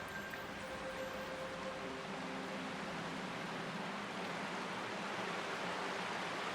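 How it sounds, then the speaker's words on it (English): Steady, even rush of water from a waterfall in the Sojourn Past demo game, a continuous broadband wash holding level throughout with no voices over it. "Cool waterfall."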